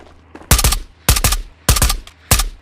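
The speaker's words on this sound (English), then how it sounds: "Why are you shooting like that?" Gunfire from the video game Ghosts of Tabor: four loud, close bursts of rapid shots, evenly spaced about half a second apart, with brief quiet gaps between them.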